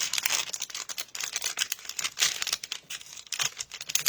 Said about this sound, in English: I like to keep the plastic sleeve, but I take and I fold the top down inside